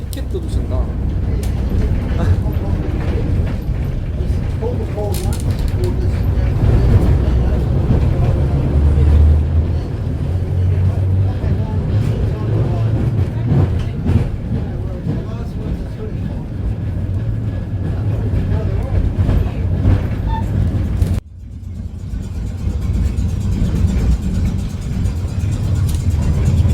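A historic tram from the 1900s rumbles steadily along its track around a botanical garden, a continuous low rolling drone with rattles and clicks, heard from on board with people talking over it.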